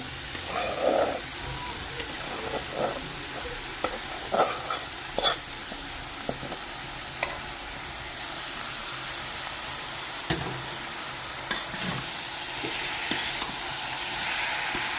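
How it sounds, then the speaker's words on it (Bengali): Kalai shak greens frying in hot oil in a pan, with a steady sizzle and repeated scraping stir strokes at close range, no talk. "এখন আমি এখান থেকে তেলটা যাতে একটু শাগের মধ্যে মিশে এই জন্য বেশি সময় না অল্প একটু সময় এটাকে ভাজি করে নেব"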